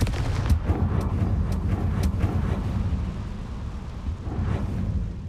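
Confringo fire spell blasts in Hogwarts Legacy, several sharp explosive cracks in the first half followed by a rumbling low roar and another burst near the end, loud with no talk.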